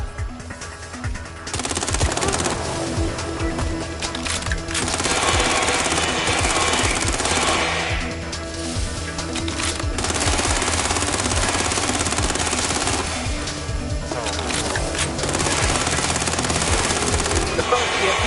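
Dense bursts of automatic gunfire from the video game Watch Dogs Legion, loud rattling volleys broken by short pauses, with game effects layered beneath.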